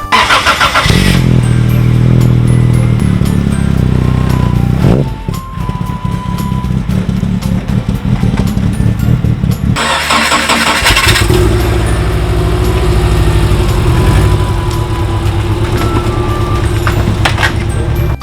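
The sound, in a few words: car being started and driven to park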